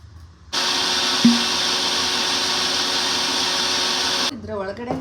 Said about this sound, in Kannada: ಜಸ್ಟ್ ಇಷ್ಟು ಇದನ್ನು ಬ್ಲೆಂಡ್ ಮಾಡ್ಕೊತೀನಿ